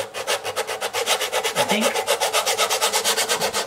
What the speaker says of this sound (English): I've been doing a little bit of sanding